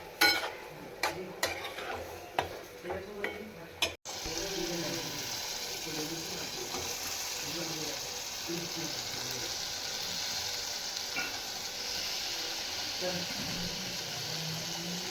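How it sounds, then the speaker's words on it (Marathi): A few sharp utensil scrapes and taps, then a steady, close sizzle of masala paste frying in a hot pan before chicken is added. "हे वाटण टाकलंय आहे आणि थोडं हे पण परतून घेईल आणि मग चिकन टाकेल"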